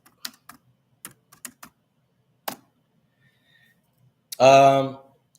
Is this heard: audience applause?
no